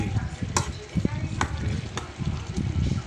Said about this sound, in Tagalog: Haluin mo ng konti.